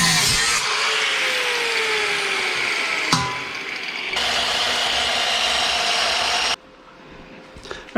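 A power tool whines steadily as it cuts off a metal stick for a gas tank mount, with a brief crack midway and the motor dropping off near the end.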